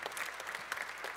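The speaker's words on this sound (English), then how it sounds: "Please give her an extra round of applause for everything that she's given to this program." An audience at a Solid Rock Singers home concert applauds in a brief, faint, steady patter of clapping.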